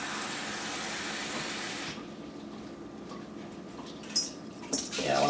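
Water runs into a container holding plastic polishing beads and agates, a steady rushing hiss that stops after about two seconds, followed by faint drips and light clinks.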